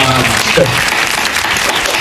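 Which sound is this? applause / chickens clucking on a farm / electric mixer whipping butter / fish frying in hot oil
applause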